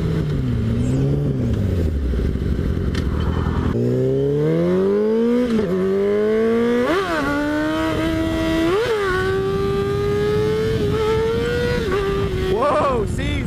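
A Yamaha R6 sport bike accelerates hard, its engine pitch climbing through several sharp rising sweeps with quick shifts, heard close from the rider's position with occasional talk.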